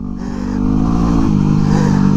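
A dual sport motorcycle accelerates hard, its engine note climbing and growing louder after a brief quieter start, then holding a steady, close, loud drone.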